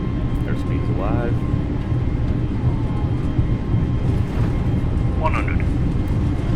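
An Airbus A320neo rolls down the runway for takeoff in Microsoft Flight Simulator 2020, a steady broadband engine roar and rumble filling the cabin with faint tonal chirps above it.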